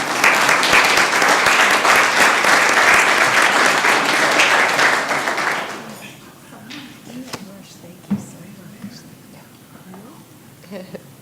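An audience at a city council meeting in Columbus, Georgia bursts into loud, dense applause for about six seconds, then it drops away to scattered claps, shuffling and a few faint murmurs in the room.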